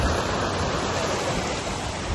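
A waterfall at a Tamil Nadu falls sends out a steady, dense roar of rushing water, loud and close with no pauses.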